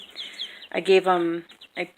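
Chickens cluck and chirp in a short bright burst close by, with a quieter call trailing after, while a person talks nearby.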